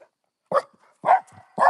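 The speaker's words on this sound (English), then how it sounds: "Well, okay, that was a different bark." A golden retriever gives three short, sharp barks close by, evenly spaced with quiet gaps between them.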